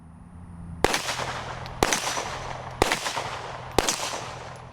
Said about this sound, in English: that was 3 more shots